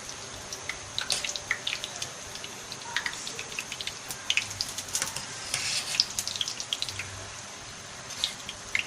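Fried dumplings for dahi bhalla dropped into salted chili water, soft splashes and dripping over a steady watery background, close and fairly quiet with no talking.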